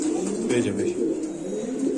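A Lahori pigeon at a breeding farm gives soft, low, rolling coos close by for about two seconds.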